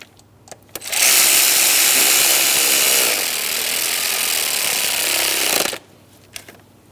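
A power tool whirs loudly for about five seconds while tightening a valve cover mounting bolt on a 2003-2007 Cadillac CTS 3.6L V6 engine, then stops abruptly, followed by quiet and a few light clicks.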